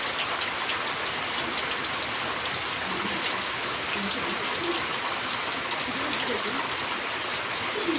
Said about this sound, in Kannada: ಇನ್ನೂ ಮಳೆ ಬರ್ತದೆ ನಮ್ಮ ಮನೆ ಒಳಗೆ.